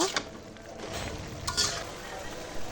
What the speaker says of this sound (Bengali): আর একটু নেড়ে চেড়ে জলটা শুকিয়ে নেব